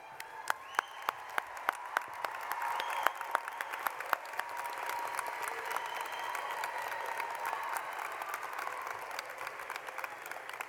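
Graduates and guests at a University of Phoenix Central Florida commencement applaud in a large hall; a few sharp individual claps open, then sustained, fairly distant crowd clapping carries on evenly.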